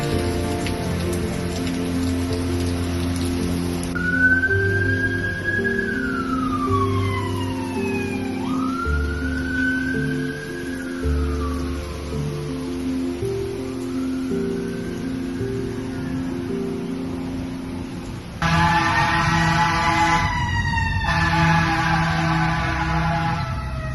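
A wailing siren rises and falls repeatedly over steady rain, with a brighter, louder burst of siren tones near the end.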